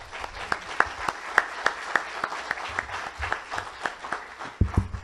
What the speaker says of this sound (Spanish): por favor, un fuerte aplauso nuevamente